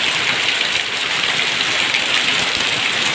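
Heavy typhoon rain pours down steadily during flooding, a dense continuous hiss of downpour close by with no pauses or talk.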